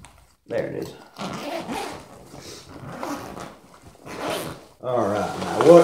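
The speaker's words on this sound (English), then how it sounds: "I found a zipper." A zipper rasps open in several short pulls, with a dog whimpering and rustling handling noises between strokes, fairly close and moderately loud.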